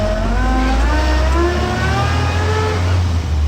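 A 1959 Land Rover Series II 109-inch pickup engine held loud and steady at mid revs, with rising and falling harmonic tones as it's geared down, a continuous close drone.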